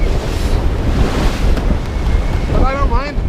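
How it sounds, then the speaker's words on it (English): Loud rushing wind buffets the microphone while 4-5 metre ocean waves surge around a sailboat in 22-25 knots on a North Atlantic crossing from Jan Mayen to Iceland, a dense roar with a brief warbling tone near the end. "Still the same weather, 4 or 5 meter waves and 22-25 knots and lots of movement on the boat."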